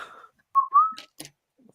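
A person whistles in imitation of a coach's whistle, giving a few short shrill tweets, one rising and sliding, then a couple of clipped bursts, close and clear.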